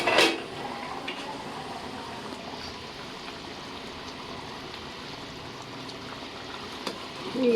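A pot of chicken biryani simmering on the stove, a steady soft bubbling hiss with a louder clatter at the start and a faint clink near the end.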